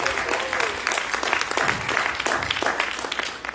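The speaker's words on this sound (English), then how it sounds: "Give him a clap." A Sunday service congregation claps for a young man, a dense, steady round of applause throughout with faint voices mixed in.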